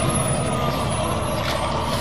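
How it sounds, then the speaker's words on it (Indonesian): A garbage truck's engine rumbles loud and close in a steady, unbroken drone, with no voices. "kalau yang ini truk sampah teman-teman"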